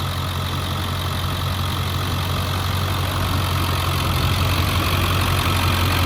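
A 1999 Ford F-250's 7.3 liter Powerstroke V8 diesel idles close by, a steady deep rumble with a low, even drone and faint clatter that holds constant throughout, no voices.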